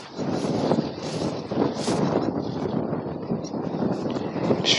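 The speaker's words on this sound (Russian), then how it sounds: "Сильный ветер." Strong wind buffets the microphone on a riverbank during spinning fishing, a loud, continuous rushing roar with gusty swells and no clear pauses.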